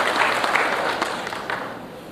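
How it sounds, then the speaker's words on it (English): Audience applause for a keynote speaker at an air cargo industry conference in India, a steady wash of clapping from a large room that stays fairly even and slowly fades over about two seconds. "Round of applause for Mr. Roland Bain, please"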